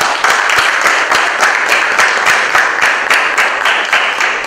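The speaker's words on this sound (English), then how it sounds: "A big round of applause, ladies and gentlemen." Audience applause for a partnership between the Ghetto Kids and Liberty Life in Uganda, a dense steady round of clapping with crisp individual claps standing out, loud and continuous throughout.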